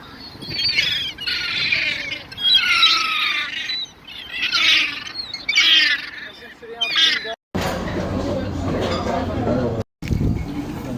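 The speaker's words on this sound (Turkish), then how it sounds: "Bak bak ama şu an bütün martılar etrafıma geldi." Seagulls gather around someone tossing cake and keep up loud, overlapping squawks and cries close by, followed by a stretch of rougher wind and street noise.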